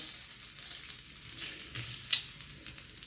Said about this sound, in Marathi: एका साईडने व्यवस्थित ह्याला शॅलो फ्राय झालं होतं